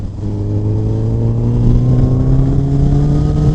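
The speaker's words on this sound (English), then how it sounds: "this is one of the most sweetest exhaust notes I've heard on a CBR 1000" Honda CBR 1000RR SP motorcycle revving close by, its exhaust note rising steadily in pitch as the engine climbs through a single long, loud pull.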